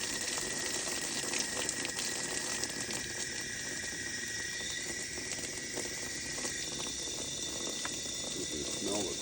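Tap water runs steadily from a faucet in a low, continuous rushing hiss, faint and unbroken for the whole stretch, with no clear speech.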